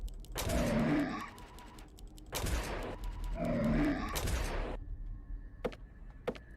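Gunfire from a weapon in the horror space game Price of Fear: Lifeless Space, heard as three loud bursts of rapid shots with clicks and faint knocks trailing after.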